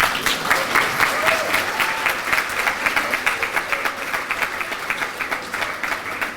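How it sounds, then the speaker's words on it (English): Audience applause after a keynote speech on empowering Muslim women, a dense, steady clapping from a large crowd that fills the whole stretch at an even loudness before beginning to thin near the end. "A big clap, please."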